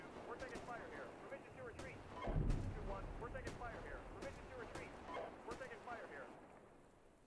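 Incoming gunfire in the tank simulator Steel Beasts Pro PE, with rapid repeated shots and cracks, a heavier thump near the start, heard faintly behind constant radio chatter from several voices.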